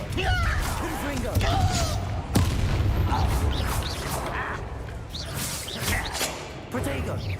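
A Bombarda explosion spell is cast in the Hogwarts Legacy video game, with a sharp blast near the middle amid busy combat whooshes and impacts, all under continuous talking.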